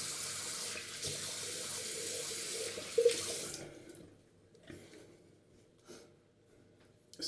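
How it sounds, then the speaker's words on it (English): A bathroom tap runs in a steady loud rush while a face is rinsed after a shave, then stops abruptly, leaving faint splashes, drips and handling sounds with no talking. "Rinse my face."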